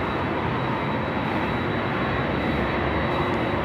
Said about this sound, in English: Heavy going 777 off the complex.